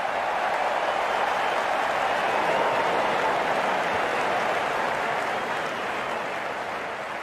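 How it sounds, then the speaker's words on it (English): A cricket stadium crowd applauds a half century: a broad, continuous wash of distant clapping and crowd noise, loud and even throughout with a slight fade near the end. "the crowd applauds"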